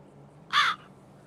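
A crow gives one short, loud, harsh caw close by, standing out clearly against quiet background hum.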